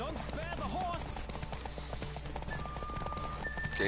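Rhythmic clip-clop of galloping hooves throughout from a horse in the video game The Witcher 3, with steady game background noise and a brief horse whinny early on; a few high tones sound near the end.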